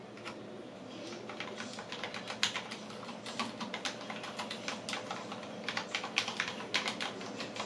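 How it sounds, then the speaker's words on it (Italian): Steady close-up typing on a Cooler Master SK631 low-profile keyboard with Cherry MX Red switches gives quiet, rapid, irregular key clicks and clacks, alone without any voice. "sono Cherry MX rosse, quindi sono super silenziose. Eccovi una dimostrazione."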